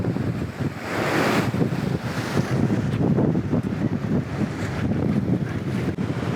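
Strong sea wind buffets the microphone on a West Sea shore at Gyeokpo during sea bass lure fishing, a loud continuous roar with gusting surges and wave wash beneath, no voices.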